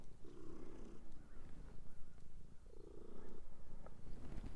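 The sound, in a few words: cat purring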